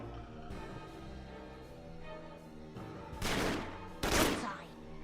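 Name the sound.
gunfire in a shootout, from a video game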